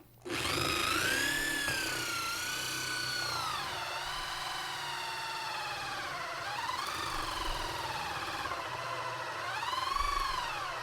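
Power drill boring the fourth hole in a build for a Pop'n Music controller, a loud continuous whine rising and falling in pitch as the motor loads and eases, sustained for about ten seconds with no talking.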